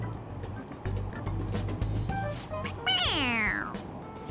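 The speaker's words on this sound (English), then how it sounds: "It meows when you press on its head." A squeaky toy cat in Persona 5 Royal gives out a single loud, rising-and-falling meow when its head is pressed, sounding alone over a low steady game background.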